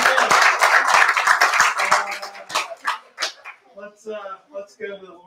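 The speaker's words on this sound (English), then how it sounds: "Let's give her a good hand clap" A church congregation claps for a new member in a quick, uneven burst of hand claps over the first couple of seconds, then the clapping thins out as voices take over.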